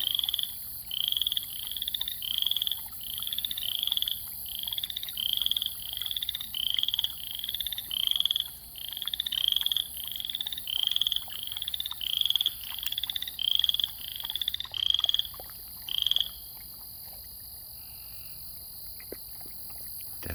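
A chorus of frogs croaks at night in a steady pulsing rhythm, loud and close, with crickets trilling continuously behind; the croaking stops abruptly near the end, leaving only the insect hum.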